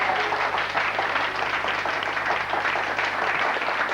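Audience applause for Florian, a steady wash of many hands clapping at moderate loudness that holds evenly through the whole stretch.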